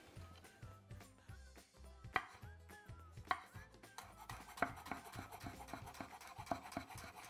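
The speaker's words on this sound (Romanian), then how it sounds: "Am terminat de mărunțit castraveții" A knife finely chops cucumbers on a board for a spicy tuna and avocado tartare, a quiet rapid series of rhythmic taps with a few sharper knocks, faint background sound throughout.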